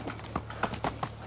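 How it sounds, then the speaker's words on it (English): Horse hooves clip-clop in the Medieval Dynasty video game, a handful of close, distinct hoof strikes in an uneven walking rhythm over a faint low hum. "you've been a good horse."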